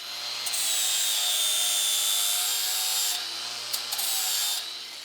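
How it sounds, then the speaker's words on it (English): An angle grinder shapes stainless steel end caps, giving a steady, loud high-pitched whine with grinding hiss that runs continuously, dipping briefly near the end. "I use the angle grinder to finesse the shape."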